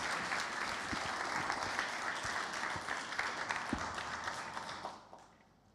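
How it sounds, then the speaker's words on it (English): Sustained audience applause for a panel of serial entrepreneurs at a medtech conference in Malta, dense steady clapping for about five seconds before fading quickly at the end. "Everyone, please give a round of applause for these serial entrepreneurs"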